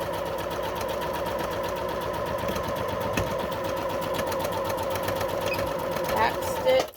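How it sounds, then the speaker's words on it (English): A sewing machine runs a straight stitch with a touch of back stitching, a fast steady mechanical whir and rapid needle clatter close up for about seven seconds, with someone talking over it. "It is a straight stitch, back stitching just a smidgen,"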